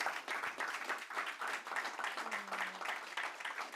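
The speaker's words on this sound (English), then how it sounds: "let's just give our final panel here a round of applause" Faint applause from a forum audience in Denmark for the final panel, steady and even clapping heard at a distance for a few seconds.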